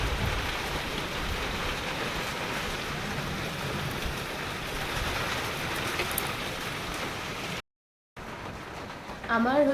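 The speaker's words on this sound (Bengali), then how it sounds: "হালকা হালকা বৃষ্টি পড়ছে" Light rain falls in a steady soft hiss, then a brief silence and a voice at the end.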